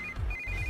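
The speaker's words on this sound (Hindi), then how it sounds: "इस वक्त दीदी का फोन।" A mobile phone rings with a sister's incoming call, a thin steady electronic tone that cuts out briefly and resumes, fairly quiet against low background rumble, with no talk.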